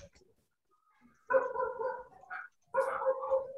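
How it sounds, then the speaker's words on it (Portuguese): A dog barks indoors in two short bursts of yapping, moderately close, separated by a brief pause, with no talk over it. "O cachorro tá começou a latir aqui"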